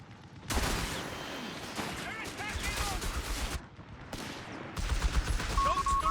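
A Vickers machine gun opens up in Company of Heroes 3, sustained rattling fire mixed with scattered shots and explosions, cut by short pauses, while voices speak over the battle.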